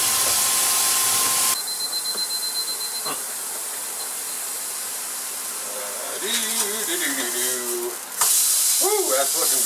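A burger patty with onion and garlic sears in a hot pan, giving a steady, fairly close hiss and sizzle that runs throughout, with a person talking briefly over it near the end.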